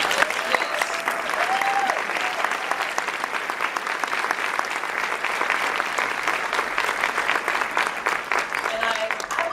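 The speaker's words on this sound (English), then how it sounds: "I want to applaud you, Sister Carol" Sustained audience applause at a talk, a dense, even roar of many hands clapping that holds steady and fairly loud throughout, with faint voices mixed in.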